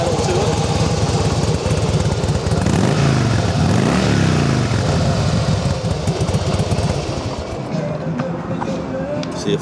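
A Harley-Davidson Softail Deluxe FLSTNI motorcycle engine idles close by with a loud, steady low rumble, a person talking over it for most of the time.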